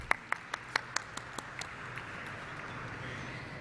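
Scattered clapping at a stock exchange listing ceremony for Aadhar Housing Finance, several sharp, distinct claps near the start that fade into a faint, thin patter over a low room hum, with no talk.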